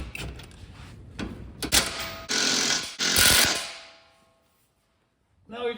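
Bolts on the suspension of a 2011 Ford Mustang being tightened with a power impact tool: several loud ratcheting bursts up close, ending in a pause and a brief final rattle.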